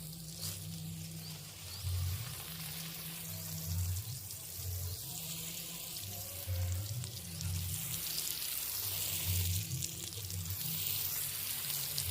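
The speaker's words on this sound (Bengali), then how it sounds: "এইভাবে জলটা দেওয়া হয়ে যায়।" Water poured onto a roadside night-flowering jasmine (shiuli) plant, heard as a soft continuous splashing and trickling over a low background rumble.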